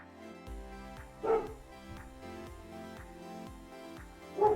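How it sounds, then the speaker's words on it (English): A dog barks in a short, fairly faint burst over a steady musical backing, with a second bark sounding near the end. "The dog is down the stairs."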